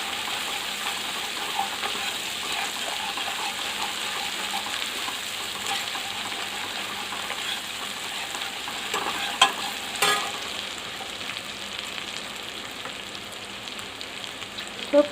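Onions and ginger paste fry and sizzle in a pan for eggplant curry, with a steady crackling hiss and occasional scrapes of stirring, close and continuous throughout with no voices.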